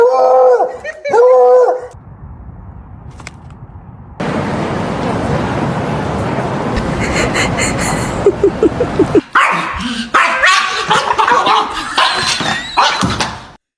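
A dog barks and yips in sharp, loud bursts, then whimpers and howls in a long, strained stretch, with several more quick barks near the end, all close by.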